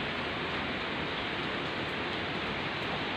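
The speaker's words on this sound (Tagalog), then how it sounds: "Ayan, umuulan." Steady rain on a balcony on a rainy afternoon in Taiwan, a dense, even hiss that holds constant and close throughout with no voices.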